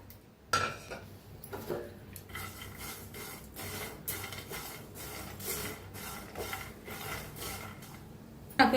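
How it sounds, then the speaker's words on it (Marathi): Peanuts and sesame seeds dry-roasting in a pan for a masala ridge gourd dish, stirred with steady, repeated scraping and rattling against the metal, close and moderately loud, with no talking. "आता शेंगदाण पहिलं भाजून घेऊया तर जर भाजायला तिच्यात तीळ बी भाजून घेऊया"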